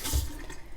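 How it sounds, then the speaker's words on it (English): Tacoma tap water runs from a faucet into a sink in a water store, a steady close hiss and splash heard alone for under a second. "This is tap water, Tacoma tap water."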